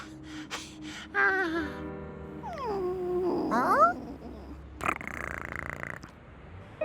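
A cartoon monkey imitates a cat with gliding, whiny meow-like vocal sounds over a soft music bed, a short burst of hissy noise following near the end.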